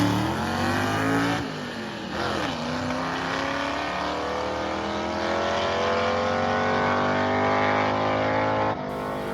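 Drag racing cars at the Tailgate Throwdown, an engine screaming loudly and steadily up through the gears for several seconds, with a sharp shift or cut near the end.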